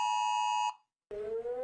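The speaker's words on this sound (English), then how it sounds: "Emergency alarm." A steady electronic alarm tone with stacked harmonics sounds loudly for under a second, then cuts off, and after a brief silence a voice follows.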